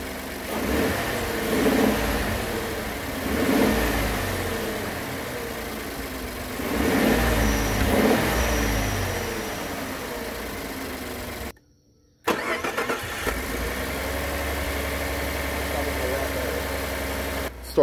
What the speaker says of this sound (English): I'm gonna give it just some baby revs.